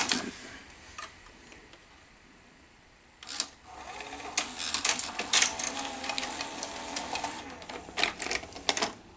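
Sony SL 330 Betamax VCR ejecting a tape, a close series of faint mechanical clicks, ticks and whirring clatter that builds after a short lull, with no voices.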